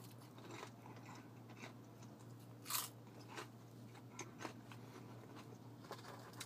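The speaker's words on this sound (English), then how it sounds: "I don't know if you can hear this crunch" Crunchy KFC potato wedges bitten and chewed close to the mic, a series of faint crisp crunches with one sharper bite, over a steady low electrical hum and quiet room noise.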